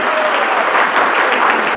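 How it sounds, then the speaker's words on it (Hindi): A crowd bursts into loud, dense clapping for an election panel at a grand program, a short, even wave of applause with no talking over it. "पूरे पैनल के लिए जोरदार तालियां।"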